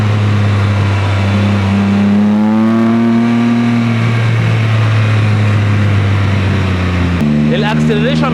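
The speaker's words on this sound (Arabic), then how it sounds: "طبعا سامعين البقبقه عامله ازاي؟" Can-Am Spyder F3 three-wheel motorcycle with a loud, close engine burbling at a low idle, then revving up and settling back, while people talk over it.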